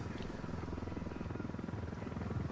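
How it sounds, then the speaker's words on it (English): Helicopter in the video game Ghost Recon Wildlands: a steady, low rotor rumble with a faint pulsing beat runs without a break for the whole stretch at moderate loudness, with no talk over it. "Fucking chopper."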